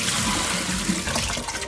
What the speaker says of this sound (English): Wash the mung bean sprouts with cold water.